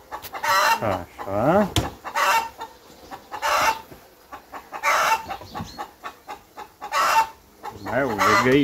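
Chickens cackle and a rooster crows nearby in a village, the calls overlapping in a lively, continuous farmyard chorus.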